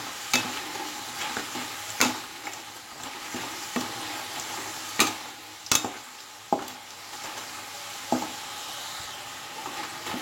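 Cauliflower and potatoes fry in a pan under a constant oily hiss while a utensil stirs them, scraping and knocking sharply against the metal every second or two.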